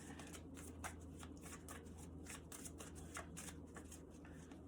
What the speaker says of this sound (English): They're telling me to shuffle again.